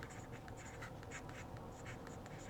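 A Genhao X750 fountain pen with a broad nib writing on paper, producing soft, close scratching strokes in a steady irregular rhythm, with a louder bump at the very end.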